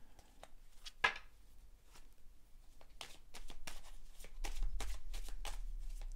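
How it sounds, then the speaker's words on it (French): Tarot cards being handled and shuffled on a table, a steady soft riffling and rustling with several sharper slaps of the deck, close and quiet with no talk. "Je vais recouvrir les cartes."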